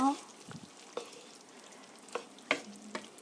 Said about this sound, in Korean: 3분 정도 보글보글 끓여주세요